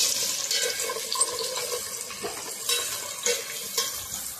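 Onions frying in a pan with cashews and nutmeg for a Bengali chicken dish, a soft sizzle under repeated scraping stirs of a spatula, close and moderately loud with no talking.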